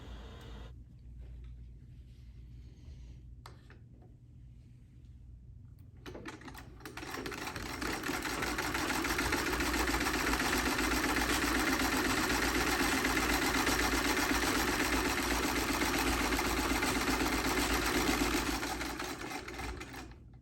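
A 122-year-old Singer Model 27 treadle sewing machine, quiet at first with a few faint clicks, then spins up into a steady, loud mechanical whirring and rapid needle clatter that holds before easing off.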